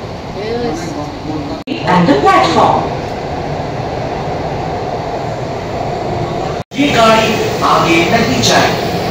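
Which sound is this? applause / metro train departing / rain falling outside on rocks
metro train departing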